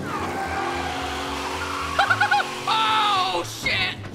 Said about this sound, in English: all these fucking cars are drift cars